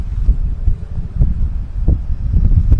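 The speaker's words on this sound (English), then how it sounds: "Yeah, the wind is bad today." Strong gusty wind blowing outdoors, buffeting the microphone with low rumbling bursts that rise and fall, loud and close with no talking.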